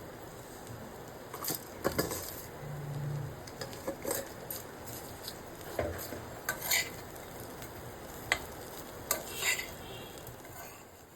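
A spoon stirs prepared tempering into a bottle gourd curry in a pan, giving soft scraping and clinking strokes with faint sizzling underneath, close and fairly quiet, with no talk.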